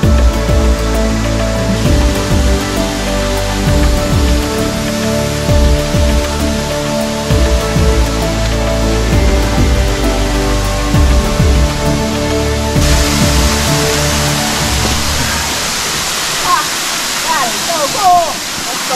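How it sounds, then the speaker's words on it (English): Sigua Falls in Guam pours with a loud, steady rush of water that fills the whole scene up close, while people talk briefly over the roar. "Here we are at the waterfall."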